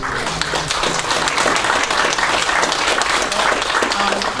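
Steady applause from a crowd at a political event with Pauline Hanson in Capricornia, dense continuous clapping at an even level throughout, with some faint voices mixed in.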